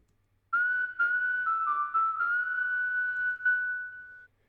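A clean, pure-toned synthesized whistling melody made in Logic Pro X for electro swing, several sustained notes with small pitch steps, ending on one long held note; no voices.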